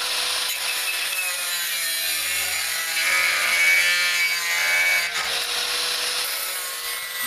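A cutting disc grinds steadily through metal in a garage for several seconds, a loud continuous hissing rasp that swells slightly in the middle and fades a little near the end.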